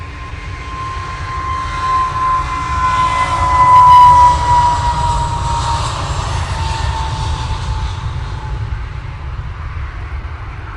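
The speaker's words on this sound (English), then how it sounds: "EasyJet, what's that, 321 Neo now on the roll?" An easyJet Airbus A321neo rolls for takeoff at Manchester Airport bound for Krakow, a loud, steady jet roar with a whining engine tone that swells to a peak and then holds as it climbs away.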